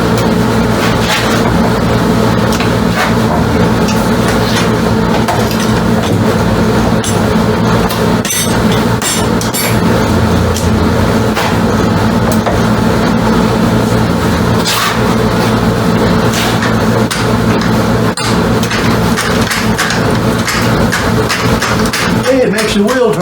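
Compressed air motor spinning a bicycle wheel, a dense continuous mechanical clatter with rhythmic knocking and metallic clinks, loud and close, with a voice speaking over it.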